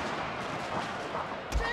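Gunfire and artillery from a Shogun 2: Total War Fall of the Samurai battle, a steady rumbling barrage with a sharper, louder blast near the end.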